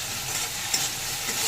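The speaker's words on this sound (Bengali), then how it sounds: "মশলাটাকে একটু কষিয়ে নিচ্ছি।" Cumin, chilli and turmeric powder with salt and a little water fry in a pan, a brief steady sizzle with soft stirring scrapes.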